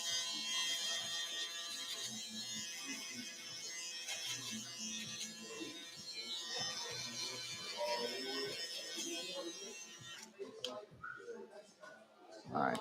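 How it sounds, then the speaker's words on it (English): An electric shaver cuts hair close to the skin during a fade haircut, a steady high buzzing drone running for about ten seconds before cutting off, with someone talking in the background. "we'll take it even closer to the skin with our shaver"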